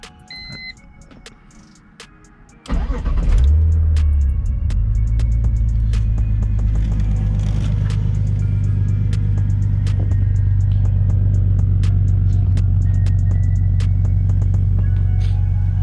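A turbocharged BMW E46 engine cold starts with a sudden cranking catch, then settles into a loud, steady high idle rumble that holds for the rest of the clip, with faint beeps early on.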